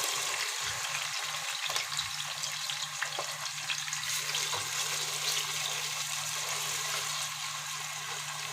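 Garlic frying in a pot for bulgur kibbeh, a loud, continuous crackling sizzle close by with a low steady hum underneath and no speech.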